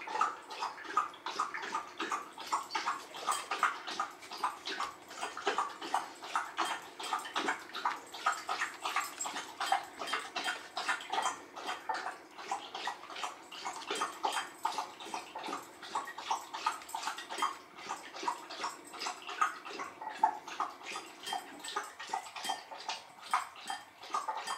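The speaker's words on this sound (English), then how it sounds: "That's Abby getting a drink of water, in case you're wondering" A dog laps drinking water indoors, a long run of quick, even wet slurping laps close by, fairly quiet and steady with no talk.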